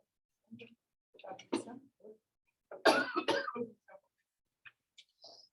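A series of short, sharp coughs in quick bursts, close to the microphone, separated by brief pauses, with a throat-clearing sound among them.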